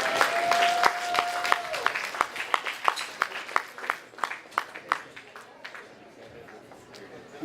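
An association event audience claps for Roy Williams as he comes up to present a legends award, a burst of sharp, separate hand claps that thins out and fades over several seconds, with a faint steady tone in the first moments.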